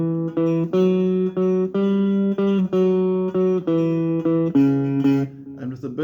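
A guitar boogie riff covering the first and second bars, sustained harmonic notes in a steady repeating rhythm, played close and clear with no talking.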